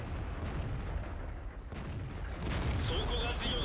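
A tank cannon fires in a World War–era tank video game, a heavy booming blast within continuous battle noise and engine rumble, with a louder burst of activity in the final second.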